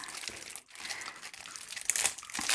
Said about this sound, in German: Ja, kann jeder mal eins auspacken